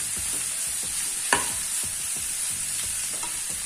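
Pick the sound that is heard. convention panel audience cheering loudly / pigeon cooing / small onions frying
small onions frying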